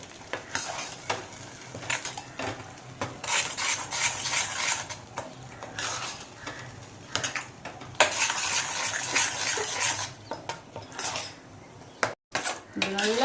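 A spoon stirs tapioca (javvarisi) paste into a halva mixture in a pan at home, giving steady scraping and clinking against the metal with a faint sizzle underneath, continuous and close, with no talk.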